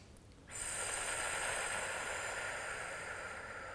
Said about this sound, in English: Inhale through the nose.